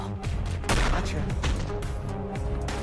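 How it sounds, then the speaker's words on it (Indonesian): Dense, continuous gunfire with sharp repeated bursts and loud blasts layered over a heavy rumbling soundtrack, cinematic and intense throughout. "Kedua belah pihak langsung melepaskan tembakan dan bertempur sengit."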